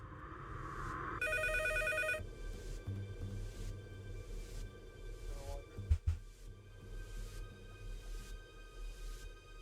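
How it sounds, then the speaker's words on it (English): A telephone rings in the middle of the night, a steady repeating electronic bell pattern standing out clearly over a low droning hum, with a brief thump partway through. "I realize my phone is ringing"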